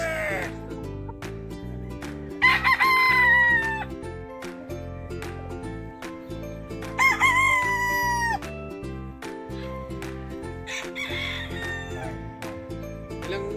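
Pure Gilmore gamefowl broodcocks crow at a farm, two loud, drawn-out crows standing out over a steady mechanical hum, with a fainter crow later.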